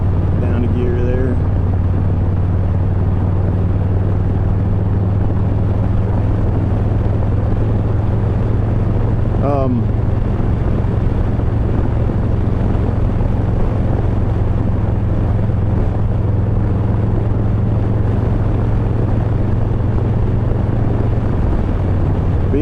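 A 2023 Harley-Davidson Low Rider ST motorcycle runs steadily on a road after a downshift, its deep engine drone continuous and loud under heavy wind rush, with a brief tonal sweep partway through.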